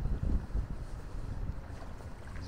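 Steady low wind buffeting the microphone on a river, a continuous rumbling roar with gusty swells and no talk.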